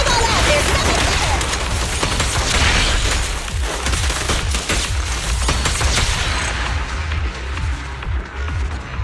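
Sustained, crackling gunfire in the Zenless Zone Zero action game, rapid overlapping shots and impacts over busy battle sounds and music, loud throughout and easing slightly toward the end.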